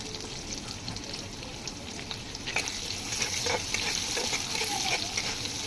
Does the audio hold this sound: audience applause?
no